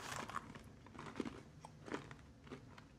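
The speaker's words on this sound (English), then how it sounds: "Can you guys hear it crunch?" Close, crisp crunching and chewing of HighKey granola, several sharp bites in quick succession, quiet and alone with no talking.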